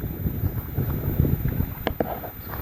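Wind gusts blow outdoors beside an open burning fire, a steady loud rushing roar with buffeting against the microphone and a few brief crackles near the end.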